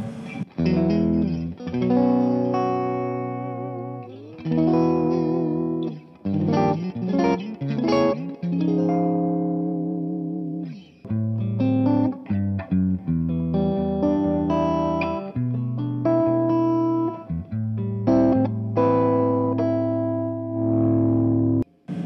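Sustained electric guitar chords and single notes through a Ratajczyk Xpress Reverb pedal and Train Wreck Express amp, with a washy, spacious reverb tail, played continuously with short gaps between phrases.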